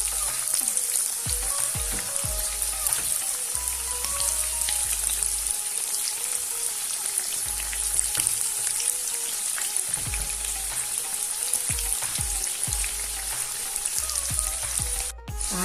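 Egg fingers deep-fry in hot oil, a dense continuous sizzle and crackle close by, with occasional stirring clinks and no talking.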